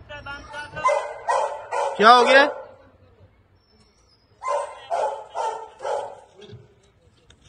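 Several dogs at a kennel give a run of loud barks and yips in two bursts, near and close to the listener, with a voice speaking briefly in between.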